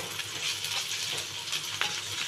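Ginger garlic paste sizzling over a low flame in a frying pan, a steady broadband crackle with small pops and stirring scrapes, close and continuous with no talk.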